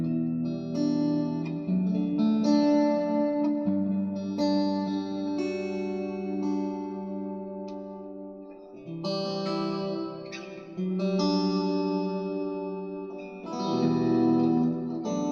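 Guitar runs through an Xvive Maxverb reverb pedal on an ambient setting, sustained chords and picked notes blooming into long washy tails that overlap and fade between phrases.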